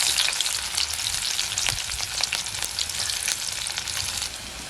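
Shallots drop into hot oil with crackling mustard seeds, a loud close sizzle with rapid pops and spatters throughout, no voices.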